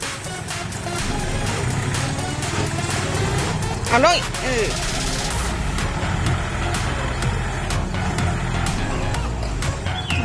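A tractor engine runs steadily nearby with a low rumbling drone and occasional higher mechanical whines, while someone speaks Thai over it.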